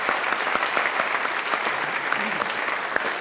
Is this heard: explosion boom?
no